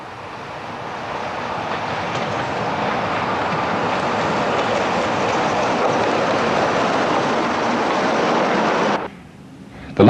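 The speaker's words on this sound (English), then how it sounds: "Another holiday train from Skegness to London takes the avoiding line through the South Junction." Class 31 diesel hauling a holiday train from Skegness to London on the avoiding line at a junction: a loud, steady rumble of engine and rolling wagons passing close for about nine seconds, then cutting off abruptly.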